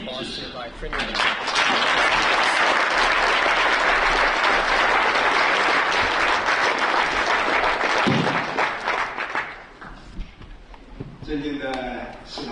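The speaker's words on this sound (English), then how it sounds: "Please join me in a warm round of applause by Premier Minister." Loud, sustained applause from an audience at a UK–China business leaders' council event in Beijing, welcoming the Prime Minister; dense clapping fills about nine seconds before fading under a voice.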